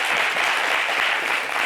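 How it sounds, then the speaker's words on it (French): An audience applauds a guest on a talk show, a dense wash of clapping that stays loud and steady for the short stretch, with no voices standing out. "On applaudit pour M."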